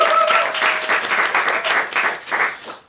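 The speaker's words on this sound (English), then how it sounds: "Let's give her a round of applause." Audience applause welcoming a psychic medium and tarot reader: dense, sustained clapping from a crowd that stays loud and then tapers off at the end.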